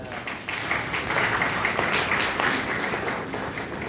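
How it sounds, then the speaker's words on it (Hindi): Audience applause at an Independence Day motivational talk: a dense, steady wash of many hands clapping at moderate loudness for several seconds, with no talking. "तालियां होनी चाहिए।"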